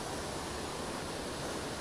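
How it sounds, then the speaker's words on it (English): A waterfall flowing down off the hills beside a river: a steady, dense rushing roar of falling water, continuous and unbroken throughout, close and fairly loud, with no voices. "Gosh, waterfall."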